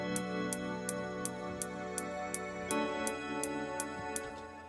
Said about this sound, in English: it's really just this pad with a slight tremolo effect on it